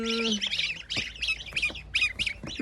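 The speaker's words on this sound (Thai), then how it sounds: "ลูกห่านพันจีนครับ" A cluster of Chinese goose goslings peeping and squawking in rapid, overlapping calls, close and fairly loud, with a brief low tone at the start.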